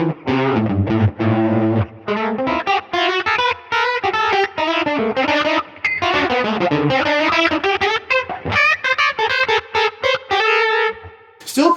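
An electric guitar runs through a Line 6 Helix chorus set to quarter-note sync at 120 BPM, with deep pitch wobble on chords and single notes that are played continuously and are up close, with no speech.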